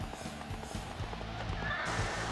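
A horse in Dynasty Warriors 5 Xtreme Legends gives a short neigh while its hooves clop in a quick, uneven rhythm, close and fairly loud against battle ambience.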